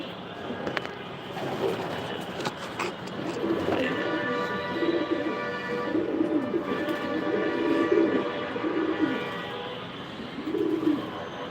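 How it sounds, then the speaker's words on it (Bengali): Pigeons coo steadily in a loft, with overlapping low throaty calls near and far over a constant room hum, plus a few sharper chirps and rustles. "এই যে নতুন কবুতর"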